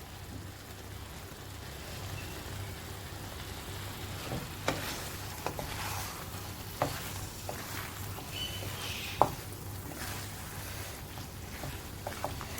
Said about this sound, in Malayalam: നമുക്ക് ഇതിലോട്ട് മുറി ചെറുനാരങ്ങയുടെ നീര് ചേർക്കേണ്ടതുണ്ട്. അതിന് ശേഷം നന്നായി ഇളക്കിയത് ഓഫ് ചെയ്യാവുന്നതാണ്